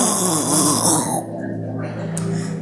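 A voice imitates snoring with a drawn-out, rattling nasal snort that fades into a low moan, heard alone and close.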